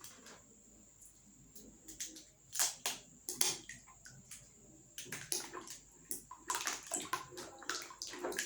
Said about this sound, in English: next on the list, you're going to add your sulfonic acid